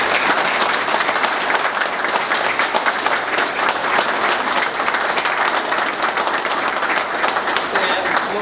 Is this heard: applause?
yes